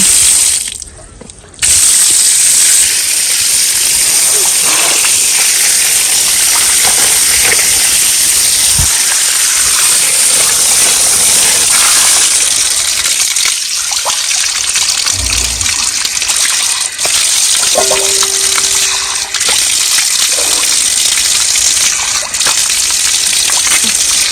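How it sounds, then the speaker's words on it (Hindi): Cold water gushes from a freshly opened outlet in a Uttarakhand hill village, a loud, steady, close rushing that fills the whole stretch after a brief quieter moment at the start, with no talk over it. "बस एक बार खोलने की देरी है पानी।"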